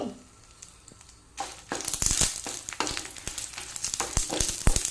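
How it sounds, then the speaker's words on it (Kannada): Peppers frying in hot oil for a chicken curry: after a quiet opening the sizzle surges loud and dense, crackling and spattering steadily up close, with scattered pops and no talking. "ಮೊದಲಿಗೆ ಮೆಣಸನ್ನು ಫ್ರೈ ಮಾಡ್ತೇನೆ"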